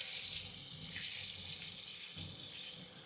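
Water runs steadily from a tap during handwashing, a continuous close hiss splashing into a sink with no voices over it.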